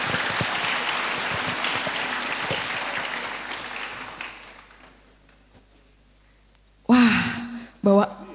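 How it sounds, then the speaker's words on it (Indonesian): Audience applause for the speakers at a youth religious class, a steady wash of clapping that fades out, followed by a couple of short bursts of voices near the end. "Berikan tepuk tangan untuk para narasumber."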